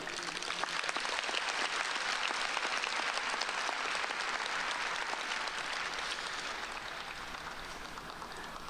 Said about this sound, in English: let's give a round of applause to our community